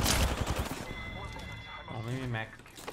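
Gunfire in the battle royale shooter Apex Legends, a fast rattle of shots up close at the start, then thinner sounds as someone talks over the game.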